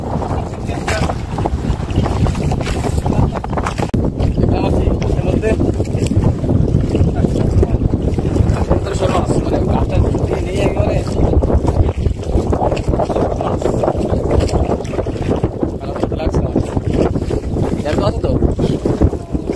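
Strong, steady wind roars and buffets the microphone throughout, a dense blustery noise with no letup, suggesting open water in stormy weather.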